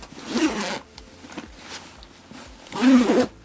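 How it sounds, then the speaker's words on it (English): A smooth No. 10 YKK zipper on a backpack is pulled open in two close, rasping strokes, a short one followed by a louder, longer one a couple of seconds later, with no voices over it. "It has very smooth number 10 YKK zippers."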